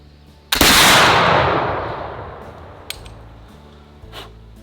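Lancaster .58 flintlock rifle fired at a steel gong 75 yards away at a range: one loud, booming shot with a long decaying roar, then a faint distant metallic ping from the gong and a later light knock.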